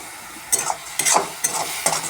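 Spices fry in hot oil in a pan while a spoon scrapes through them in about four quick, rhythmic stirring strokes over a bright, crackling sizzle.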